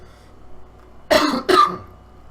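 Two quick, sharp smoker's coughs close up after a quiet moment, the second following right after the first.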